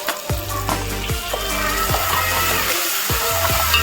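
Tomatoes fry in a hot pan for a chicken curry, giving a continuous sizzle with repeated clinks and scrapes of stirring, close and fairly loud, with no talking.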